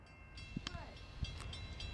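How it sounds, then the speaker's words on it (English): A Norfolk Southern local freight train, L38, reverses through Marion, Ohio, with a faint, low rumble and a few soft clanks, heard from a distance. A brief voice is heard over it. "there he is, Norfolk Southern L38, going backwards."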